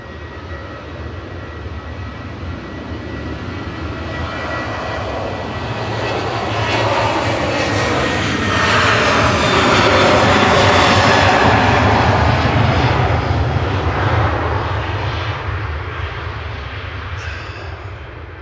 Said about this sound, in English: Ryanair departing to Belfast, flight 191.